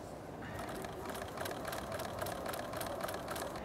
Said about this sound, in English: And I'm going to stitch this.